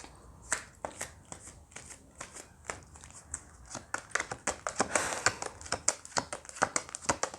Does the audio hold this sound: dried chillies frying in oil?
no